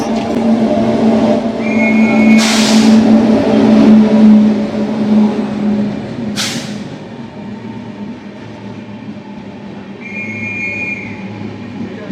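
The Tambaram–Madurai Superfast Express rumbles steadily past at close range at Tambaram station, with a low droning engine, rolling wheel noise and brief bursts of hissing; no voices.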